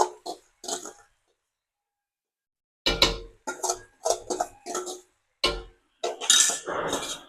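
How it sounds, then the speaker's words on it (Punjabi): A spatula gently mixes vegetable fried rice in a pan, giving sparse metallic clinks and scrapes. A short burst is followed by a pause, then a run of irregular taps close by, with no talk. "ਹਲਕੇ ਹੱਥ ਨਾਲ ਮਿਕਸ ਕਰਾਂਗੇ ਇਹਨੂੰ ਆਪਾਂ"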